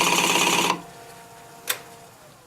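Uneven plywood pieces spinning on a wood lathe make a rapid, buzzing clatter that cuts off abruptly, followed by quiet and a single sharp click.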